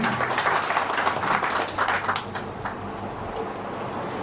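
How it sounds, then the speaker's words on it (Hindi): Seminar audience at a BNI business event in Korba, Chhattisgarh claps in a fairly close, moderately loud round of applause that thins out and softens toward the end. "मेरे लिए भी तालियां।"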